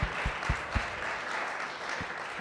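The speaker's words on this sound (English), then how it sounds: "Let's clap for Gina." A small group gives a brief round of applause: a few distinct, evenly spaced claps open it, then a soft continuous patter follows at low level, with another sharp clap near the end.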